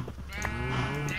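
A sheep bleats in a video game with a sustained, wavering call under a steady background hum, close and clear for just over a second.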